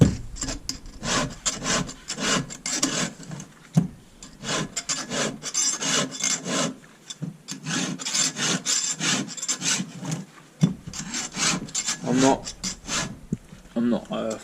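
A file rasps over and over along a Husqvarna 550 XP chainsaw chain, steady repeated scraping strokes close by, with brief pauses between runs and faint talk now and then.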